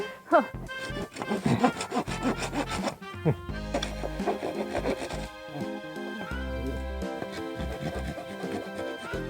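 Thick branches of bamboo over three years old are cut on a farm with rough, rasping wooden strokes in uneven bursts, close by, with voices speaking in between.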